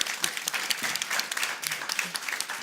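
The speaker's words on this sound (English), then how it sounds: "a big applause for all of them" An audience applauds a panel of speakers at a women's leadership event, with dense, even clapping that goes on steadily throughout and stays moderately loud.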